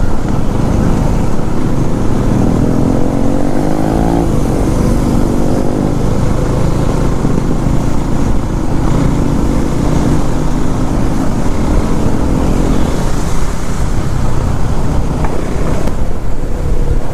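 A group of KTM 390 motorcycles riding together on a club ride from Nilamboor to Ooty, a steady loud engine drone with wind rush throughout and no speech.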